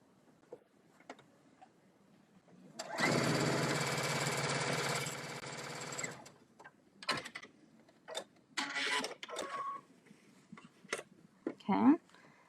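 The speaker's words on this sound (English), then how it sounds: "I'll sew these together." Sewing machine stitching two quilt patches together into a four-patch block, giving a loud continuous mechanical whir for about three seconds, followed by fabric handling, clicks and rustles.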